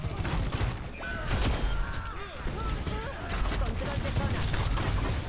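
Game gunfire in Overwatch 2, a dense run of rapid shots and impact crashes lasting several seconds, loud and steady with no voices over it.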